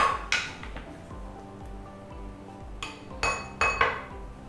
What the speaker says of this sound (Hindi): ये जो ब्राउन अनियन तैयार है, इसे मैं बोल में निकाल लेता हूँ।